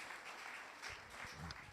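A church congregation applauds the Lord during an apostolic service: a dense, steady wash of many hands clapping together, lasting under two seconds with no voices over it.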